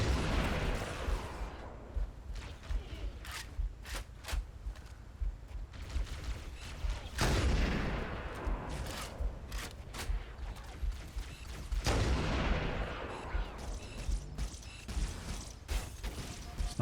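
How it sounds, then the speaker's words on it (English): Rifle fire in the sci-fi shooter Halo: Combat Evolved, single shots cracking out at an uneven pace with a few louder blasts standing out above a steady rumble of battle, with no voices. "So even in the future, they've got these rifles that only shoot one bullet."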